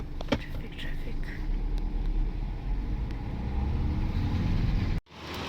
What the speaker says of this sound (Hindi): अभी ट्रैफिक है, थोड़ा ट्रैफिक